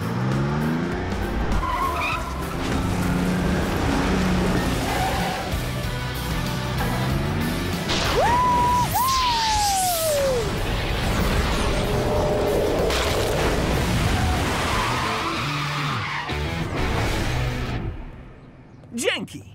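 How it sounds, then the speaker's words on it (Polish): Cartoon ice cream van driving in against busy action-show audio, with racing-car engine roar, a rising and falling electronic jingle-like tone, and tire skids under continuous voices before the noise drops away near the end. "Tak bardzo, że zdaje mi się, że słyszę furgonetkę z lodami!"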